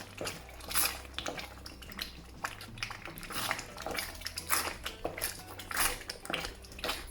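Thick unroasted rice flour dodol being stirred in a pan after half an hour of cooking, with repeated scraping and clinking of a spoon against the metal and soft gloopy movement, close and steady without talk.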